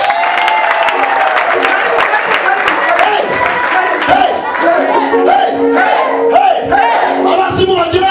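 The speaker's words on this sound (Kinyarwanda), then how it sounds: "Bakore Imana amashyi." A church congregation bursts into loud, sustained applause and cheering that fills the hall, with crowd shouts mixed into the continuous clapping.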